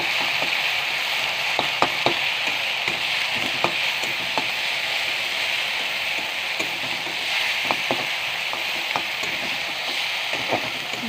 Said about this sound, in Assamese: মছলাটো আগতে ভাজি লওঁ।